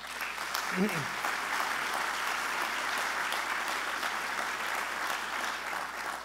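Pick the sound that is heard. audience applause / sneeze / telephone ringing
audience applause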